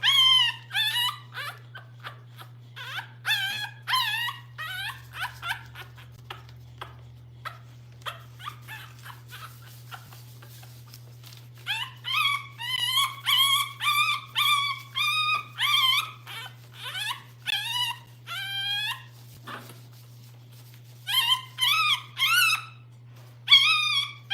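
A small French bulldog puppy, about three weeks old, whines and cries in high, wavering yelps, in bursts with brief pauses and a steady low hum underneath, no talking.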